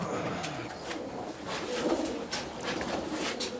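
Pigeons coo softly and repeatedly nearby, with low, rolling calls over light background noise.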